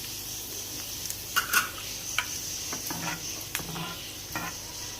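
A tadka of curry leaves, red chillies and white cumin sizzles in hot oil, a steady crackling hiss broken by several sharp clinks and scrapes of a spoon against the pan.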